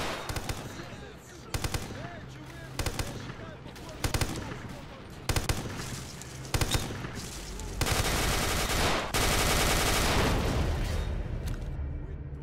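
Machine gun fire in the video game STALKER Clear Sky crackles in short rapid bursts at regular intervals, then becomes a loud, sustained stretch of continuous gunfire over a busy battle background.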